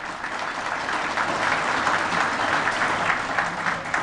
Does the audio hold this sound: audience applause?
yes